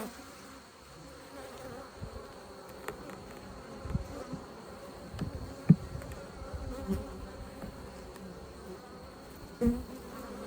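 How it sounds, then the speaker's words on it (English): Honey bees buzzing inside an open beehive, a dense steady hum of many wings close by with small bumps and crackles, no talking. "Yeah, there's a lot of bees in here."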